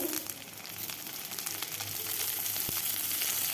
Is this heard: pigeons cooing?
no